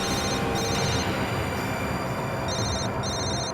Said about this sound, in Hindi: फोन उठाओ और उसी से पूछ लो।